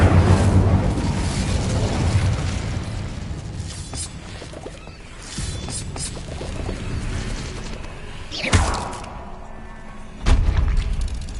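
An Incendio fire spell is cast in Hogwarts Legacy on PS5, with booming, whooshing magical blasts over constant game ambience. Several heavy impacts land, two of them sharp and loud near the end.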